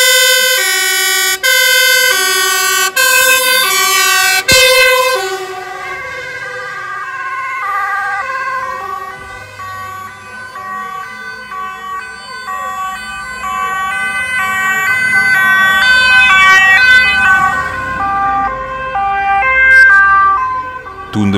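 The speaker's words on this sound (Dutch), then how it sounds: "En met de sirenes aan vertrokken ze naar de feestlocatie voor zijn laatste brandje." Fire engines in the Netherlands depart with sirens on, loud two-tone wails repeating close by, then fading as the trucks pull away while engine rumble continues, with no talk.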